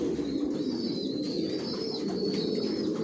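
Racer pigeons, including red checker and silver racer breeding pairs in a loft, coo in a soft, continuous murmur, with a thin high chirping call rising above it throughout.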